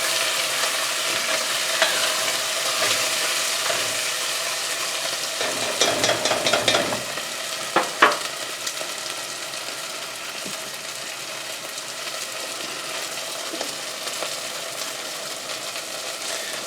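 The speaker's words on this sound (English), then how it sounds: "Stir that in so it gets all nice and aromatic." Ingredients for Szechuan chicken sizzle in a hot pan as they are stirred, making a steady frying hiss with a cluster of scraping, clattering stirring strokes in the middle, close and without talking.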